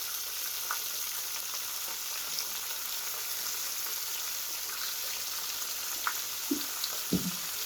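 Fenugreek leaves frying in a pan over a medium flame, a soft continuous sizzle with occasional light stirring knocks near the end, no voices.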